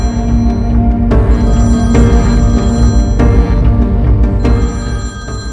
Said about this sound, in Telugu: ఏంటి నీ ఫోన్ నుంచి ఫోన్ వస్తుంది?